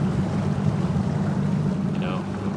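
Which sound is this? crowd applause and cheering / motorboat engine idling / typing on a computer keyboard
motorboat engine idling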